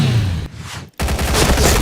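Rapid gunfire bursts from the online shooter game Point Blank, loud and continuous, cutting out briefly to near silence before resuming with dense repeated shots and impacts.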